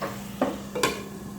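Potatoes stirred into a pan cooking with chicken liver and chicken breast, two brief scraping stirs over a low steady sizzle, close and without talk.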